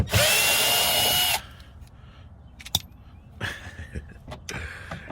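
Cordless power drill spinning out a door speaker screw on a 2011-2020 Dodge Charger, a loud close whine for over a second, then quiet handling clicks and rustles.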